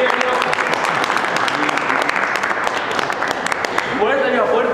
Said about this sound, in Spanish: Un aplauso para los presidentes que están ingresando a la Casa de Gobierno.